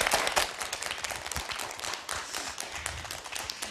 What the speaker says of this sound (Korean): 큰 박수 네, 부탁드립니다.